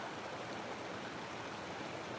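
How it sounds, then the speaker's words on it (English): Flash flood water rushes through the desert in a dense, continuous roar, like a churning stream heard up close and alone. "This is a flash flood in the desert there"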